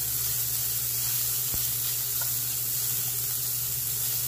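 Fat renders and sizzles in a hot pan while cooking for a Brazilian rice dish, arroz Biro Biro: a steady, loud hiss that runs on without pause and with no one talking.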